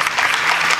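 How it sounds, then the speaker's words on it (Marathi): Brief burst of audience clapping at a village Harinam Saptah devotional gathering in Girgaon, a dense, steady wash of many hands, fairly loud and with no voices over it. "एकदा टाळ्या वाजवा मागच्या पिढीसाठी"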